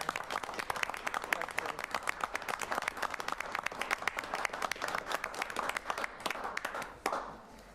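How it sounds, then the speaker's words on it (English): A round of applause at a city council meeting, a smaller crowd clapping with distinct individual claps that stay steady for several seconds before tapering off near the end, with no talk over it. "I'll give a round of applause."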